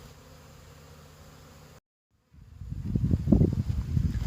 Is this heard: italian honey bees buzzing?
yes